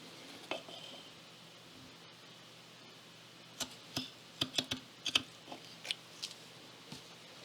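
Scissors snipping through the warp threads of a beaded loom bracelet to cut it loose, a run of short, sharp clicks close by in a quiet room, without talk.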